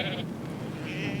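A sheep bleats twice on a Falklands farm, short nasal calls at the start and end, close and moderately loud over steady background noise.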